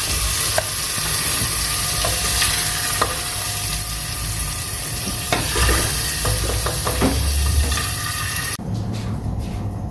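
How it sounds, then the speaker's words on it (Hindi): Mutton heart, kidney and liver cooked for Eid is scooped out of a hot pan with repeated spoon scrapes over a steady sizzle, which drops away near the end. "आग बंद कर दें, अब इसको हम डिश आउट करेंगे।"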